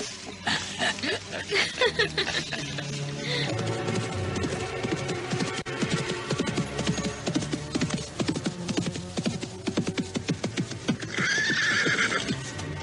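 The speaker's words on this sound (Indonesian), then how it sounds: "Kita ke sana saja menunggang kuda berdua." Horses whinny and neigh repeatedly in an Indonesian radio-drama scene, with hoofbeat clip-clops, voices and dense music filling the mix, and a bright, loud whinny near the end.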